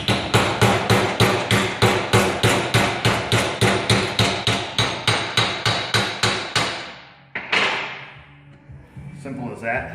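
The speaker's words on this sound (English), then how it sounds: "just work around it with the hammer" Rapid, regular hammer taps on a metal bearing dust shield being seated onto a viscous coupler, about twenty sharp ringing strikes close up, then a single louder hit and a fading clatter.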